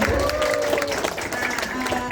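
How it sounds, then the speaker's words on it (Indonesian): Applause from an audience at a community talk event, dense clapping mixed with crowd noise and overlapping voices throughout. "Tepuk tangan untuk kita semua ada di sini."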